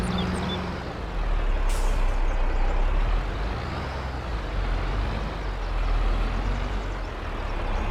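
A truck's air brake hisses in Farming Simulator 22, a steady broad whoosh over a low idling engine rumble that swells and settles across the stretch, with no talking.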